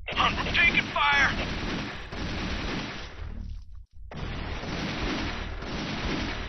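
Loud gunfire and artillery blasts from the Army Men RTS strategy game rumble in dense, continuous bursts, broken by a brief near-silent gap before the barrage resumes.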